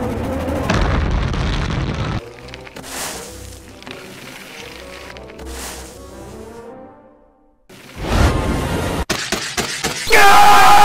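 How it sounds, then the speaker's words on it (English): An exploding mailbox in a Simpsons cartoon, a loud shattering boom at the start followed by a long fading rumble, then further sharp bangs and clatter near the end. "An exploding mailbox?"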